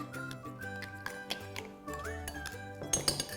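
Chopped fruit and mixed fruit jam are stirred together in a bowl, with a spoon clinking and tapping against the bowl in irregular light knocks over soft background music.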